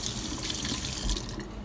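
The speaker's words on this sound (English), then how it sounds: "when you're done rinsing your brushes out" Tap water runs steadily into a sink while oil paint brushes are rinsed under it, a loud, continuous splashing flow.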